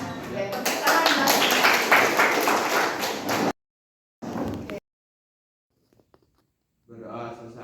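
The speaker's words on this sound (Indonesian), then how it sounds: "Oke, tepuk tangan." A class of students claps together in a classroom during a teaching performance session, a loud burst of clapping for several seconds, then a brief second burst, followed by quiet and soft voices.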